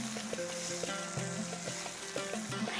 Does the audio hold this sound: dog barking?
no